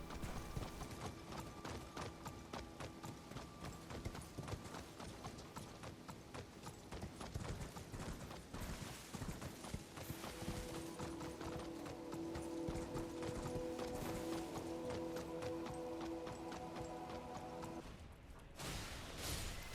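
Steady, rhythmic hoofbeats clip-clop from horses in the video game Elden Ring, moving continuously at a trotting pace with faint mechanical game sounds underneath.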